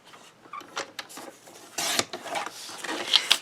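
A cutter slicing a block down to 3.5 inches gives short rasping, scraping strokes close up, a series of uneven cuts with a louder drawn-out rub near the middle.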